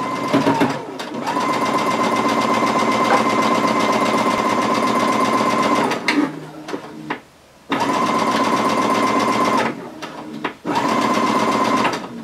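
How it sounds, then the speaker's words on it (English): A sewing machine stitches an eighth-inch seam on fabric for a drawstring gift bag, running in long, steady, loud whirring bursts with brief stops and restarts, close by. "now I'm going to sew with an 1/8 inch seam"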